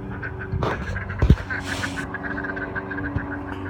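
Ducks give a few quacks at close range on a farm outdoors, set over a steady background hum and a few clunks and rustles.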